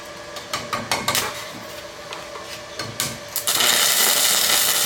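A stick welding rod burns on a cheap $100 welder, giving a close, irregular crackling and popping that settles into a steady, loud sizzling hiss near the end.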